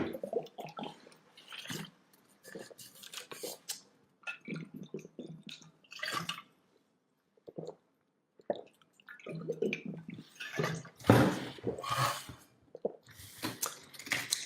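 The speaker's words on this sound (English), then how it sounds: "Sorry, just gonna drink some water." A person drinks water close to the microphone, with a run of soft gulps, sips and small wet swallowing noises in irregular bursts, a brief silent pause, then louder gulping toward the end.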